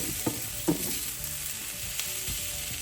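Goan sausages frying with onions in a pan, a close, continuous sizzle with a few soft spatula pushes and light taps.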